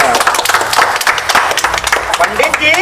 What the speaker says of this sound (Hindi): ताली वाली बजाऊगा तो चल